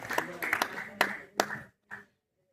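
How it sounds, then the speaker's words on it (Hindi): A scattered handful of claps from the audience at a mushaira and kavi sammelan at IIT Delhi, a few close, distinct hand strikes that thin out and stop, leaving near silence. "तालियां बजाते रहे भाई दोस्तों"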